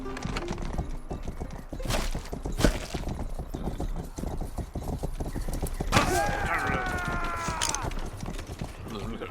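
Hooves clip-clop in quick, uneven rhythm in the video game Rustler, joined by a horse's whinny partway through, with occasional sharp hits and someone talking over the game sounds.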